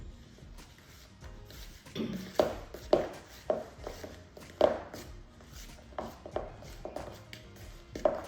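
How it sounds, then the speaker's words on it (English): Crumbled cake being mixed with buttercream in a bowl, a run of soft, close, irregular taps and scrapes from the spoon against the bowl, with no talking. "I've just broken up 3 of these, and I'm going to give it a bit of a mix around and see what happens"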